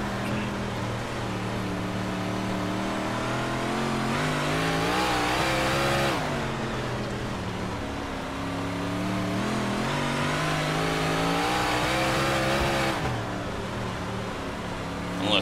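Big Block Modified race cars roar around Kokomo Raceway's dirt oval in the iRacing game, with loud, continuous engine drone that rises and falls through throttle changes and drops sharply twice for corners.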